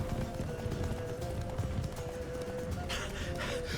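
Roach, a horse in The Witcher 3, gallops with a rapid, steady clip-clop of hooves under game ambience, with a brief whoosh or snort near the end.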